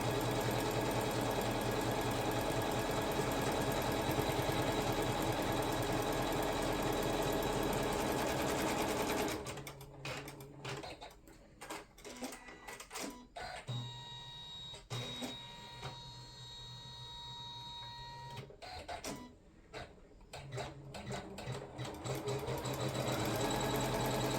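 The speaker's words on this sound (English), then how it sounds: "We are then going back on the machine. We're going to stitch the next stitch." An embroidery sewing machine stitches the outline of an in-the-hoop box bag, first as a loud, fast continuous whirr, then as stop-start bursts of rapid stitching with short pauses before running steadily again.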